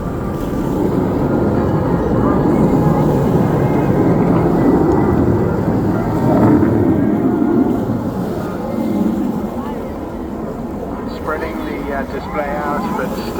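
Eurofighter Typhoon jet engines roar throughout an airshow display, a broad, heavy rumble at some distance. A commentator talks over it the whole time.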